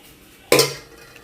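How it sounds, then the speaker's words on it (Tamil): A metal ladle is picked up from among kitchen utensils beside a pot of cooking rice, giving a single sharp clatter that rings briefly and fades in a quiet kitchen. "அது கிண்டுறதுக்கு ஒரு கரண்டி எடுத்து வைப்போம்."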